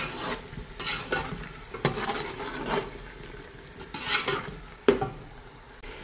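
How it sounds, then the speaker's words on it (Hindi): About two tablespoons of yogurt being stirred into a sizzling vegetable pulao masala in a pan, with repeated close scraping strokes of a spoon over a soft frying hiss. "योगर्ट डाल के हम इसको फ़ौरन से मिक्स कर लेते हैं।"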